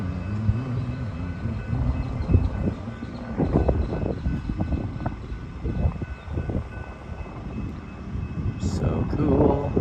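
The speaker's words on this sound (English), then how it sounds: "Alright, so here comes our train." A commuter train rolls in at a transit station, a rising rumble and clatter of wheels with a whining motor building over several seconds, while people talk nearby.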